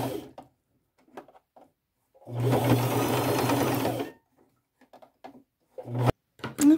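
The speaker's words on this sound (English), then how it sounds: "I'll go to my machine and I'll sew around that circle, that felt circle, and get all this sewn on" Sewing machine stitching around a felt circle for an upcycled collage brooch, one steady whirring run of about two seconds with quieter handling clicks and taps before and after.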